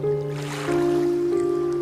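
Cartoon boat gliding forward on water at night, with a steady sustained tone and soft wash layered beneath it, continuous and close, with no voices.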